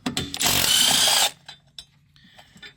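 A power tool whirs loudly for about a second while a 10mm nut comes off a car battery terminal during a 12V battery replacement on a Highlander Hybrid. Faint clicks and small metallic taps follow.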